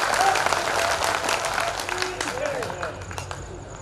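Audience at a religious darbar gathering near a temple clapping together in a dense, sustained round of applause that gradually eases off, loud and near.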